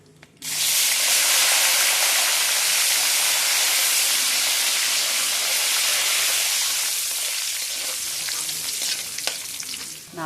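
Curry leaves hitting hot oil set off a loud, steady sizzle up close that starts abruptly and holds for about ten seconds, easing only slightly toward the end.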